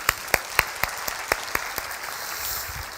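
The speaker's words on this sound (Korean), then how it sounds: "박수로 하나님 앞에 영광을 돌려드리겠습니다." A church congregation at a Sunday service gives scattered applause: sharp, separate hand claps start the clip, then thin out into a softer, faint patter that fades away.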